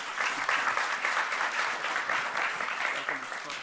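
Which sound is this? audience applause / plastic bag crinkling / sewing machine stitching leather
audience applause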